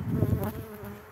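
Honey bees buzz at an open hive during queen replacement, a dense, steady hum that is loudest at the start and eases slightly over a brief stretch, with no talking.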